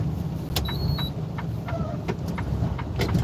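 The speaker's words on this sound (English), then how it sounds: "Let's see if we can go in here with this tractor trailer." Tractor trailer truck rolling slowly into a delivery lot, a steady close engine and road rumble throughout with a few faint short squeaks and clicks riding on top.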